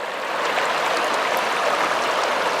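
Fojnica river water flowing steadily along its riverbed in Bosnia, a continuous broadband rushing close by with no voices over it.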